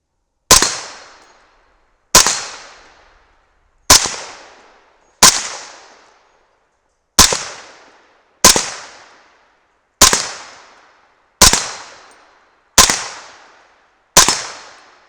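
Ten sharp gunshots from a 300 Blackout rifle firing powder-coated bullets at swinging steel plates outdoors, spaced roughly every one to two seconds, each a loud crack with a short decaying tail, no talking.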